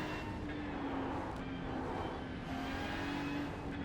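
Porsche Cayman GT4 engine droning steadily as it drives on a track while the tires warm up, a constant mid-pitched drone from inside with a faint tonal whine and no talking.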